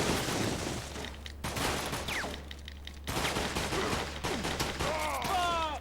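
Video game gunfire crackles in bursts, rapid shots layered over a steady low hum, with short pauses between volleys and brief electronic chirps near the end.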